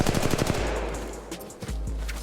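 Rapid automatic gunfire from the mobile shooter game Apex Legends Mobile, loud bursts of quick shots at the start, then a steady low rumble with a couple of isolated shots later.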